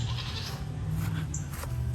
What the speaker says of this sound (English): my goats are mad at me right now because they want to eat